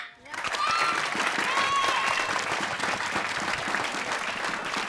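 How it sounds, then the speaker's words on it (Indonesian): Audience applause rises after a brief pause and carries on steadily at full strength, dense and continuous, with a few faint voices calling out within it, as an audience votes for a winner by clapping. "pemenangnya gimana kalau kita ambil dari tepuk tangan penonton?"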